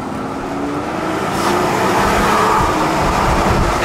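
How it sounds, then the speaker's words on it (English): A straight-piped Mercedes S65 AMG 6.0L V12 rumbles with its exhaust valves closed, a low, fairly subdued drone that swells a little louder partway through. "It's way more quiet than it was stock when the valves are closed."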